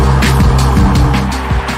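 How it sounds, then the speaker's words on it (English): A Bentley Continental GT's twin-turbocharged 6-litre W12 engine roars loud and close, a deep continuous drone with rising and falling pitch as the car accelerates, with no talk over it. "this thing has a twin-turbocharged 6-litre W12 engine"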